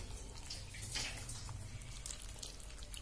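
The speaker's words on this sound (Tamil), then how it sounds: "புளி கரைச்சிக்கலாம்" Tamarind being squeezed and dissolved by hand in a bowl of water for a Tamil pork kulambu, soft sloshing and trickling water with light splashes, quiet and close, no voices.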